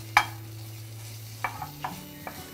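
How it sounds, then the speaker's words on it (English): A spoon stirs potato in a frying pan, giving several sharp scraping clinks against a low steady hum, with no one speaking. "after adding this potato, I'm going to simply stir a little bit"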